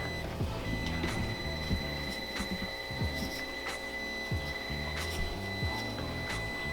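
A Traxxas TRX4M RC truck backing up a trailer gives off a steady run of electronic reversing beeps, evenly spaced and close, over a small motor whine and faint mechanical clicks.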